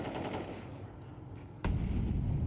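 Rapid automatic gunfire spray in Counter-Strike during a Major tournament match, a dense sustained rattle that jumps louder partway through, with no voices over it.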